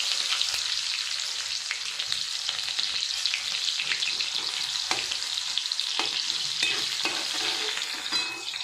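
Onion hisses and sizzles steadily in a hot pan with cumin seeds while a spoon scrapes and stirs through it, a continuous close frying crackle with occasional clicks of utensil on metal, no voices.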